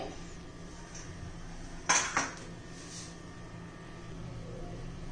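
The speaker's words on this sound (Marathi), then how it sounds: "आता आपण कढई गरम करण्यासाठी ठेवतोय" One sharp metallic clank as a heavy wok is set down on a stove nearby, in an otherwise quiet room with a faint hum.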